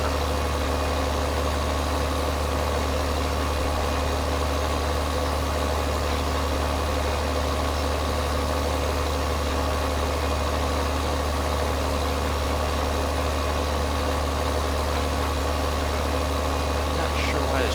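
A tractor pulling a corn planter runs in Farming Simulator 2013 while shaking oddly, giving a continuous, steady low engine drone with a mid-range rumble that holds evenly throughout, with no clear speech over it.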